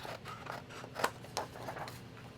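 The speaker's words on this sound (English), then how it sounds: "But yeah, I like my dollar store scissors for some reason." Cheap dollar-store scissors trimming paper for a journal cover, a few quiet snips and crisp cutting strokes close by in a quiet room.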